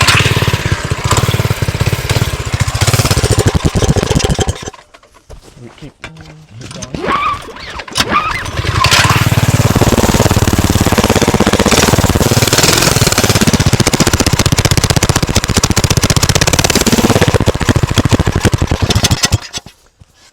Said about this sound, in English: There you have the sound of the 2 pipes going